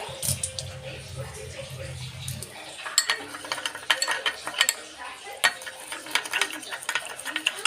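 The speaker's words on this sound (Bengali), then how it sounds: "সমস্ত উপাদানগুলোকে কিন্তু ভালো করে মিশিয়ে নিতে হবে" A spoon stirs a thick homemade mix of coconut oil, coffee and sugar in a small bowl, giving soft scraping and clicking strokes that grow denser after a low hum fades early on.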